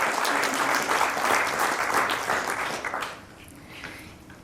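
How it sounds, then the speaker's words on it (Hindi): An audience claps loudly in sustained applause that holds steady for about three seconds, then quickly fades to a few scattered claps. "तालियों की जो खनक है ना वो बहुत दूर तक जानी चाहिए"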